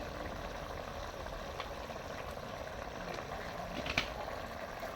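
Yardlong bean dhoka batter with garam masala simmers in a pan, giving a faint, steady low bubbling with a few soft pops, alone and quiet.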